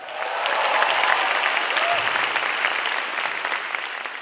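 A theatre audience at a grand final comedy show claps steadily in a dense, sustained wash of applause, moderately loud and even throughout.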